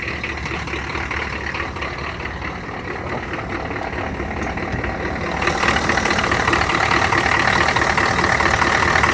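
A vehicle engine idles steadily just after starting, a close, continuous rumble that grows a little louder and brighter partway through, with no talking.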